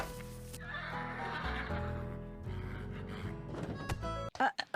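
A sick, colicking horse in the Nancy Drew: The Secret of Shadow Ranch video game lets out a loud, drawn-out whinny, followed by a few short snorting bursts near the end.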